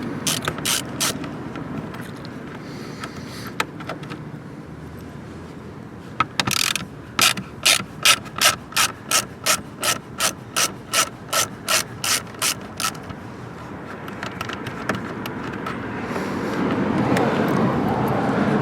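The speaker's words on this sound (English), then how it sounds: "we're going to remove these 2 screws that are left and right and center with a Torx 15" A hand ratchet clicks in a quick regular series while backing out Torx 15 screws on a 2022-2026 Cadillac CT4-V Blackwing, with scattered handling noises before and a rising rumble after.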